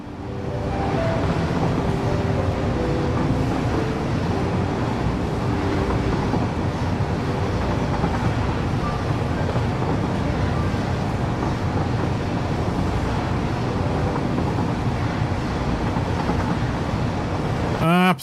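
A massive, very long train runs through a landscape in the factory-building game Satisfactory 1.1, giving a steady, loud, continuous rumble and roar with no breaks from start to finish.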